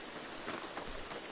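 Steady rain falls in the horror video game Devour, a fairly quiet, continuous broadband patter with no talk over it.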